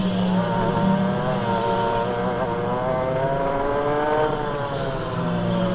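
A racing kart at Llandow circuit, during a university championship race, roars past nearby, its high-revving engine note rising and then falling away, loud and alone over the whole stretch.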